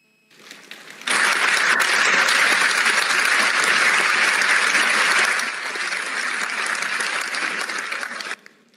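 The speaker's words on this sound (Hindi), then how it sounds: "एम्स भुवनेश्वर के समस्त श्रोतागण करतल ध्वनि से अभिनंदन करें।" An audience at an inauguration ceremony for new facilities at AIIMS Bhubaneswar bursts into sustained, loud applause lasting about seven seconds, then trails off abruptly.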